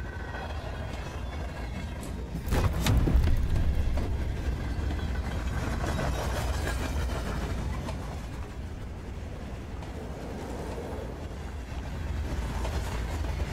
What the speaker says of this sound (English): Oh, we're in a train.